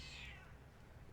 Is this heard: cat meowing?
yes